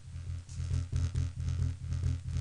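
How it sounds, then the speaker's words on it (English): Psytrance synth bass run through a Max Bass sub-frequency plugin, a fast rolling pulse of deep, droning low notes repeating evenly and loud, with no voices. "max bass sounds like this"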